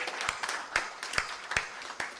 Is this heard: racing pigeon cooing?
no